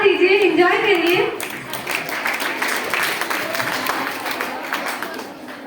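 Audience applause at a farewell event, a broad wash of crowd clapping that swells after a woman's brief spoken line at the start and carries on steadily at moderate loudness to the end.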